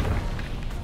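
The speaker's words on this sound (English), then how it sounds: "Explosions." An explosion in the video game We Happy Few: a deep, sustained rumbling boom filling the whole moment, loud and heavy in the low end, with no voices over it.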